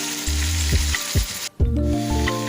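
Ground meat sizzles in a hot pan for a baked ziti, with crackling bursts and scraping stirs over a steady fry. A brief cut and some low hum also come through.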